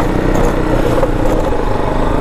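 A motorcycle travels over a rough, rocky road, its engine droning steadily and loudly throughout with a continuous rumble and faint rattling as it bounces.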